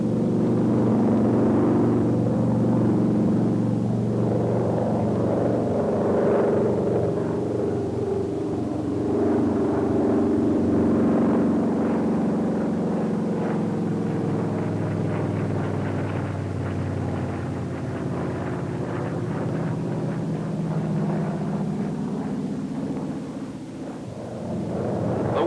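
A Brewster SB2A Buccaneer in a flight simulator drones steadily through a chandelle entered at 205 knots, its engine roar rising and falling in pitch as the aircraft climbs and turns, with no talk.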